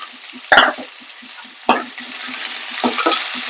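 Onion, garlic, dried red chili, green chili and curry leaves frying in oil, with a soft background sizzle punctuated by three sharp clanks and scrapes of a spoon stirring in the pan.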